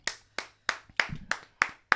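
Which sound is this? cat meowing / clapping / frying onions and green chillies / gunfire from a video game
clapping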